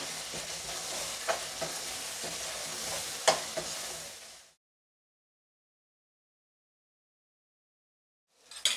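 Garam masala and biryani masala are stirred in a hot pan for chicken dum biryani. A close, steady sizzle with a few scraping clicks runs for about four seconds, stops into silence, then briefly returns at the end.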